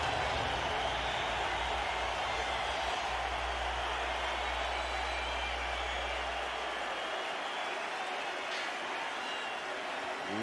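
A packed rugby league stadium crowd at the 1995 Auckland Warriors versus Brisbane Broncos match makes a dense, continuous roar that holds steady throughout, with a commentator's voice above it.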